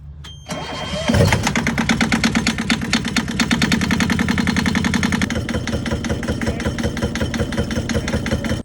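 A water system engine cranks and catches with a sharp burst, then settles into a loud, steady, slightly rough idle that continues to the end.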